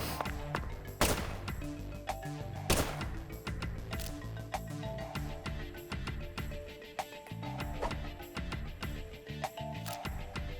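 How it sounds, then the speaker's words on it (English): Sharp gunshots in the video game Deadly Premonition 2, with a few distinct loud cracks over busy game sounds and clatter, fairly close and spaced irregularly. "Shoot the meat, he says."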